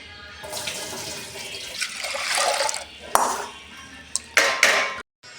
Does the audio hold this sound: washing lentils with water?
yes